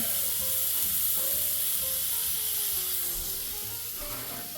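Roast beef sears in a Ninja Foodi XL, a steady close sizzle and frying hiss running throughout with faint rubbing and scraping, no talk.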